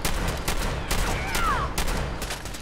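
Shotgun blasts in Fallout 4 come as a couple of loud, sharp booms spaced about a second apart over a busy game background.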